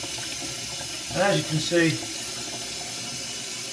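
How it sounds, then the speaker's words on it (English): Cold tap water pours steadily from a faucet over a DJI Osmo Action 5 Pro action camera held underneath, a continuous hiss with its sound briefly shifting as the camera is turned, while someone speaks. "So I'm running the cold water all over the microphones, turning it upside down, really giving it a good waterproof test here."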